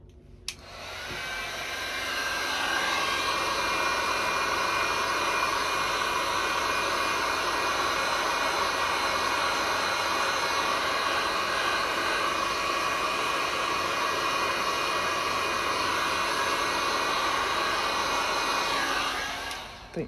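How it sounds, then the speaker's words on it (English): A blower flash-dries paint pen work on resin coasters, giving a steady, loud whooshing roar that starts abruptly, holds evenly for about eighteen seconds, then cuts off. "So let me flash dry this really quick."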